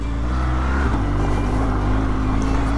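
Motorcycle engine held on the throttle while climbing a slippery trail in the Cévennes, a loud steady drone that shifts pitch slightly partway through, no speech.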